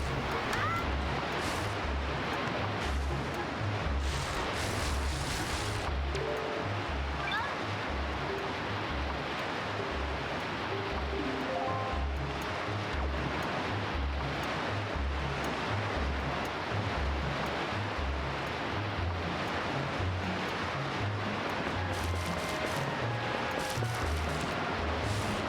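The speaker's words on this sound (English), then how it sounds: "I think the ocean is ridiculously loud." Ocean waves from The Legend of Zelda: The Wind Waker wash steadily and loudly throughout as a continuous surf wash, with faint game tones and effects woven in and no talk.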